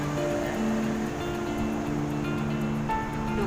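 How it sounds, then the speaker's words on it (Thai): Strong sea waves wash steadily against a rocky shore in a continuous, broad roar, with wind rushing throughout and no voices. "คลื่นมาแรงจริงๆค่ะ"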